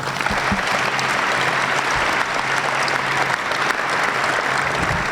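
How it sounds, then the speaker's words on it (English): Sustained, loud round of applause from the crowd at an Air Force base change-of-command ceremony, a thick wash of clapping with a low hum running beneath. "please join me in one more round of applause for everybody out there that worked so hard"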